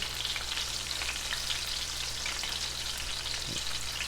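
Breaded chicken cutlets sizzle steadily in a frying pan for chicken Parmesan, a dense, continuous crackle of hot oil up close with no talking.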